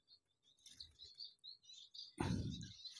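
Exotic finches chirp in an aviary, a pair of cutthroat finches among them, with scattered high tweets and calls over a faint background, then a louder low rustle or bump at the end.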